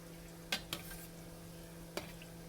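Nigerian chin chin dough fries quietly in hot oil under a soft, steady sizzle, while a few sharp scraping clinks of stirring stand out against it.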